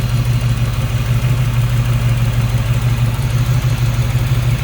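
A 1937 Chevrolet Master Deluxe street rod engine idles close by with a steady, smooth low rumble, continuous and even throughout, with no one talking.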